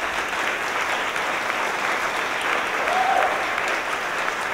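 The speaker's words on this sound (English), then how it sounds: "Let's give her a round of applause." A theatre audience at an outdoor summer musical theatre concert series gives sustained, dense applause, a steady wash of many hands clapping together at even loudness throughout, with no talking.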